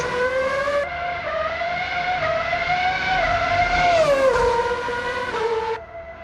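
A 2007 McLaren MP4-22 Formula 1 car in a racing video game on the Nürburgring, its loud, high engine whine climbing through the revs with sharp gear-shift drops, continuous and close.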